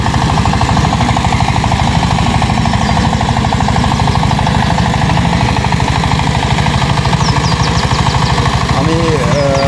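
A 2024 ACI 20 hp power tiller engine hammers away at close range while plowing dry farmland, a loud, rapid, steady diesel chug throughout, with a voice briefly heard near the end.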